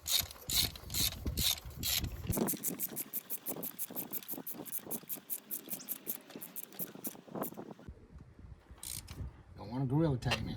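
Ratchet wrench snugging a spark plug on a 2006 Suzuki during a plug and coil swap, a fast run of small clicks in bursts, close up, with a voice talking early on and a brief break near the end.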